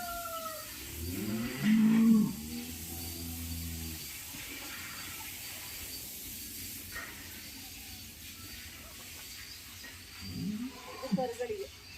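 Cows let out of a cowshed moo outdoors, one loud, sustained low call near the start and another shorter bellow later, with running water and faint voices around them.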